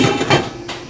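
A lid lands on a pot of chicken noodle soup being made from scratch, one sharp metallic clatter up close with a second softer knock as it settles, then only quiet kitchen background.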